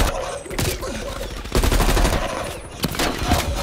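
Minigun in Call of Duty: Black Ops Cold War fires in dense, rapid sustained bursts with brief gaps, loud and close throughout.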